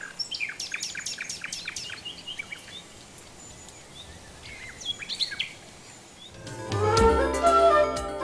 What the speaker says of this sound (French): beaucoup d'oiseaux ont élu domicile dans l'épais marécage qui prolonge le lac